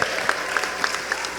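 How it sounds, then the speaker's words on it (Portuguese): Audience at a church youth event breaking into applause, a short burst of many hands clapping with sharp rhythmic claps standing out near the recording, steady and lively throughout. "Uma salva de palmas agora"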